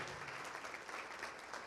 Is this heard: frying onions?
no